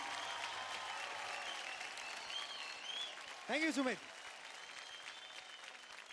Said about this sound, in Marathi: जोरदार टाळ्या होऊन जाऊ द्या आपल्या सुमेधसाठी